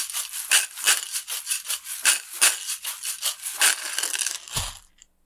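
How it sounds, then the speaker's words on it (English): Beads rattle against a dried gourd shaker in rapid, loud, rhythmic shakes close up, ending with a soft thump. "you can see how much louder it is when the beads are hitting that dried out gourd"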